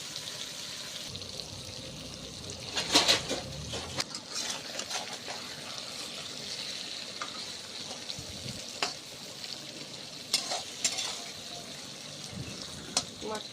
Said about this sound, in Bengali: মাছটা হালকা ভেজে নেব।